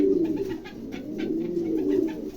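Mukhi pigeons coo softly and continuously, a low repeated warbling close by, with no talk over it.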